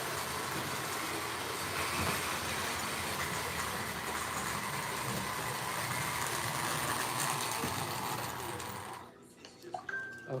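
A model train with dirty wheels runs around a track beneath a Christmas tree, giving a steady rattling, whirring clatter for most of the run before cutting out near the end to a few small clicks.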